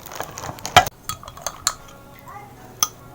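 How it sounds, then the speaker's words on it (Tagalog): Powdered green weight-loss drink being stirred in a glass, with a spoon clinking against the sides in a few sharp taps amid softer scraping, close up and moderately loud. "haluin nyo ng haluin kasi minsan nagbubuo-buo yung powder"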